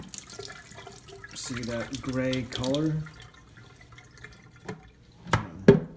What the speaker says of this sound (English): as I pour this onto the white basin